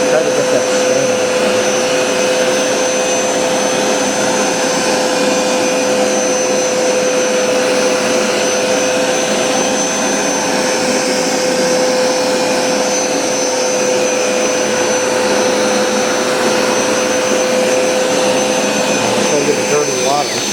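A Hoover SmartWash automatic carpet cleaner runs continuously on carpet, a loud, close, steady motor whine and airy suction roar with a constant high tone, with no pauses for the full stretch.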